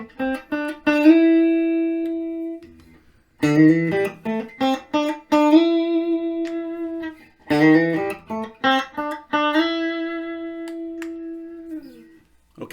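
A PRS SE Swamp Ash CE 24 electric guitar plays with a clean tone, alone and close, in short phrases of picked notes and ringing sustained notes with brief pauses between runs.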